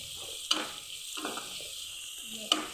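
Ginger and garlic sauté over a medium flame with a low, steady sizzle, broken by a few distinct stirring scrapes and two sharp clinks of a utensil against the pan, quiet and close.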